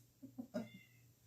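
A house cat meows faintly indoors, a short run of two or three quiet chirping mews ending in one slightly louder cry, with no talking.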